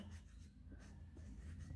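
Pen scratching on a sheet of paper, a faint, steady rubbing with soft repeated strokes, close by and without talk.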